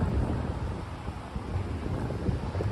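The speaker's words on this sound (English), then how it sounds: "it's a little bit windy" Cold night wind gusting across a microphone in Manhattan, a steady loud rumbling roar with buffeting bursts and no voices.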